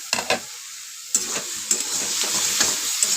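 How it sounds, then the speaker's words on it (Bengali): A salted spiced mixture sautéed on low-medium heat, with a crackling sizzle under a few sharp spatula scrapes and taps against the pan. "লো টু মিডিয়ামে এটা আমি কষাতে থাকবো"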